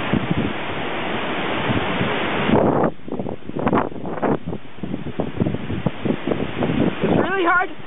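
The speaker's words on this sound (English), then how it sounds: "It's really hard to tell which way the wind is blowing." Strong hurricane wind in Ohio roars and buffets the microphone for the first few seconds, then gusts on in uneven bursts while someone talks over it.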